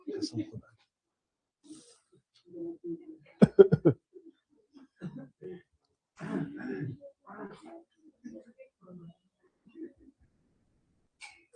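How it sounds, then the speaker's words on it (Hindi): A student coughs and clears their throat during an online trigonometry demo lecture: a few short, rough bursts near the middle, set among a teacher's ongoing speech. "खांसी कर रहे हो बेटा"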